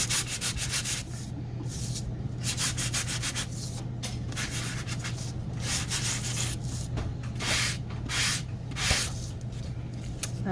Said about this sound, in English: I'm going to do a quick sand.